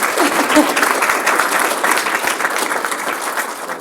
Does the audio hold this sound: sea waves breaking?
no